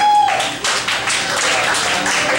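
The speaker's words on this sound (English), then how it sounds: "Give him a round of applause" A small audience at a live show applauds a guest, the clapping breaking out sharply after a brief voice and holding as a dense, even patter.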